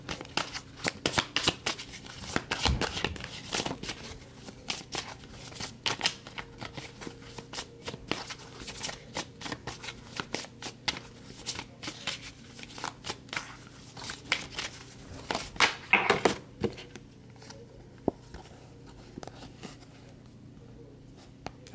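A deck of tarot cards being shuffled by hand, a long run of crisp riffling and flicking bursts close to the mic, busy at first and thinning toward the end, with no talk.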